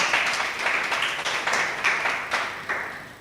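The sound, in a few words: round of applause for debating teams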